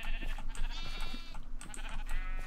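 Several Minecraft sheep bleating in quick overlapping calls, close and fairly loud over a low constant game hum, with no one speaking.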